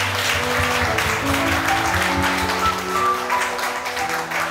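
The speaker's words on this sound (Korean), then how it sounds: "우리 최재영 사모님을 위해서 다시 한번 더 박수 드리겠습니다" An audience at a meeting in Incheon applauds a guest, with steady, continuous clapping from a room full of people running under a low tonal hum, with no clear voices on top.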